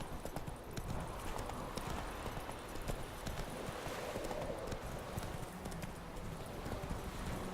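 Horse hooves trot steadily in the video game The Witcher 3, a quick continuous clip-clop rhythm that sounds close and fairly loud over a low wash of game ambience, with no talk.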